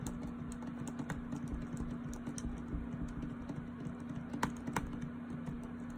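Steady typing on a 2019 MacBook Pro's faulty keyboard, a quiet continuous patter of light clicky keystrokes with a few sharper taps, heard up close under a low constant hum.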